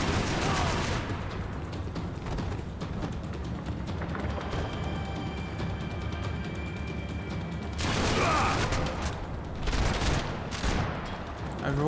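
Gunfire in the video game Max Payne 3, with dense bursts of shots and booms. A loud barrage opens, then a quieter stretch under talk, and two more heavy volleys break out near the end.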